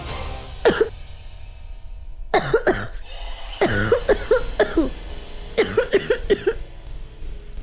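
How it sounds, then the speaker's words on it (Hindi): A person coughing in several harsh bursts, some in quick pairs and runs of three, close by with brief pauses between. "खांसी।"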